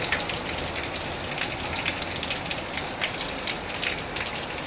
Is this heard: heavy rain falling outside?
yes